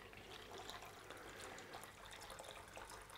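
Water is poured steadily to fill a container with about three quarters of a litre for a large Monstera houseplant, a continuous close splashing trickle with no talk.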